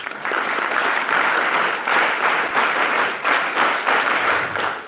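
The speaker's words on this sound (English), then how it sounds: "Can we have a big round of applause for the team?" Audience applause at an inter-house English elocution event, steady dense clapping from a full room that holds for about five seconds with slight swells.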